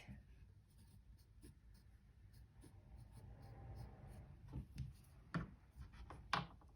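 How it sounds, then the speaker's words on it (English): A marker writes on a pleat of fabric, producing faint, close scratchy strokes that build into a few sharper rubbing bursts near the end, set against a quiet room. "I'm gonna go ahead and write cross stitch here on the bottom pleat."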